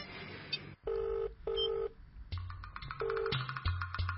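A handset keypad beeps through several tones of dialing, each lasting a fraction of a second, separated by short gaps, with a faint low hum underneath.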